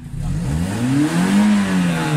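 A 1993 Toyota Corolla engine revs close by, its pitch climbing smoothly then easing back in a single sustained rev over about two seconds, loud and alone.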